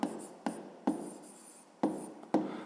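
Pen writing numbers by hand during a fifth-grade maths exercise, heard as close, quiet strokes in short bursts with small pauses between them and no speech.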